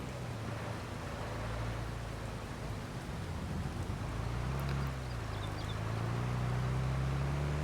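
Steady rain hiss over a low droning vehicle engine hum that shifts pitch partway through, in the video game Farming Simulator 22, continuous with no speech.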